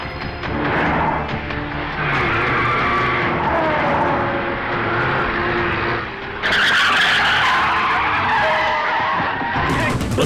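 Cars skid and race in a chase scene from a Hindi-dubbed South Indian action film, with sustained engine roar, squealing tires and a sharp burst of louder noise partway through.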